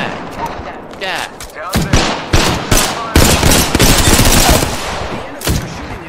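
Rapid bursts of video game gunfire, single shots and automatic volleys firing repeatedly in a close, loud firefight, with players talking over the shooting.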